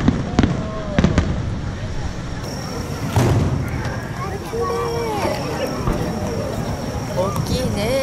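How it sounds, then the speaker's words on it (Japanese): Fireworks pop and crackle with sharp bangs and sizzling bursts at a Japanese fireworks festival, while people chat nearby in the background. "初めての花火"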